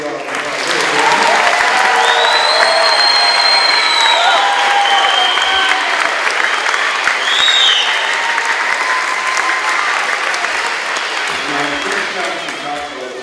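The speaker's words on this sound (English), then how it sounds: "Let's give him one more big round of applause." Audience at an elementary school string concert applauding loudly and steadily for over ten seconds, a dense wash of clapping that tapers slightly toward the end, with faint overlapping voices.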